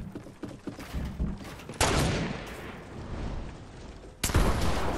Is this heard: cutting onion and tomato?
no